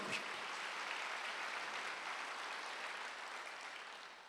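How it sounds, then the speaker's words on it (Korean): A church congregation applauds during a Wednesday worship service, a soft, continuous wash of clapping that swells early and slowly fades over a few seconds, heard from some distance. "박수 한번 해주세요."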